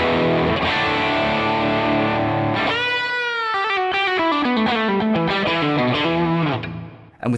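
An electric guitar through a one-channel amp on the bridge pickup at high gain, a loud distorted chord ringing out, then a run of saturated notes and bends.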